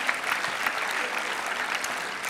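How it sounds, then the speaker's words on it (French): Audience at a national congress of cooperative businesses applauding loudly, dense sustained clapping filling the hall at an even, strong level from start to finish. "on les applaudit très fort."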